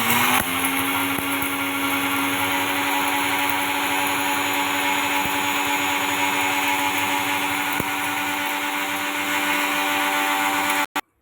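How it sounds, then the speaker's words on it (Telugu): A kitchen mixer grinder grinds whole spices, ginger and garlic into powder for a Sunday chicken curry, with a loud, steady, high-pitched motor whine that runs unbroken until it cuts off abruptly at the end. "మిక్సీ పట్టించేసుకున్నాం"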